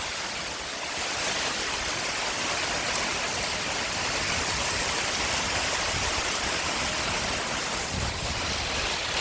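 Heavy rain pours down near a reservoir with water gushing, a dense, steady roar of rushing water that holds constant throughout, close and enveloping with no voices.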